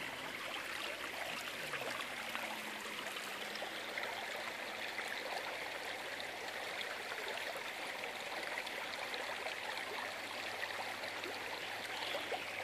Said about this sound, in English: it'll allow for the water to go full force through here